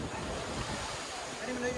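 Sea waves wash steadily onto a beach at high tide, a continuous broad roar of surf mixed with wind rumble on the microphone, with no break in the rushing noise.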